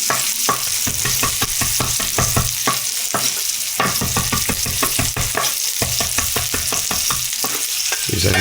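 Onions sizzle steadily on a hot griddle for a cheesesteak, with frequent sharp scraping strokes of a spatula stirring them in an irregular rhythm, close and fairly loud, no voices.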